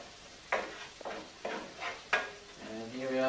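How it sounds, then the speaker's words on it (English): Oil, chili and garlic sizzle in a home kitchen pan, with several sharp bursts of spitting as ingredients are stirred, then a steadier frying hiss with a faint hum beneath. "here we are, cooking the oil and the chili and the garlic"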